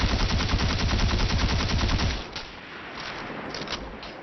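In the Destiny 2 game, the Omolon weapon fires a rapid, loud, steady burst of automatic shots for about two seconds. A quieter tail of echo and a few scattered pops follow it.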